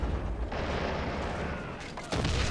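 A recoilless rifle fires in a World War II strategy game, a booming blast with a rumbling tail, followed by a second sharp report near the end; battle noise fills the background with no speech.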